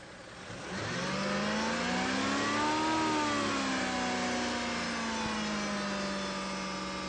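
A Mazda MX-3 engine at a dealership service check starts up and revs smoothly, its steady tone rising to a peak and then settling into a held mid-range drone, running alone with no talk.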